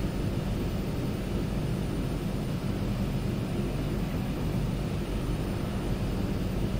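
Steady droning hum of a Twin Otter turboprop with one propeller feathered, from a flight simulator, a constant low-heavy engine roar holding level throughout with no talking.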